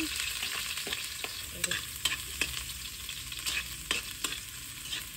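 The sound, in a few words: garlic and onion sautéing in oil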